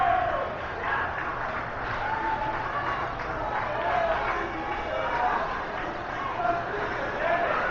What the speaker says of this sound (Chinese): 左侧的餐馆啊，发出了阵阵的欢呼声